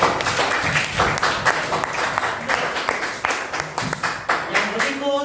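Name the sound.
classroom applause for group 1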